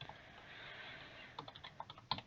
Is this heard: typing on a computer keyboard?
yes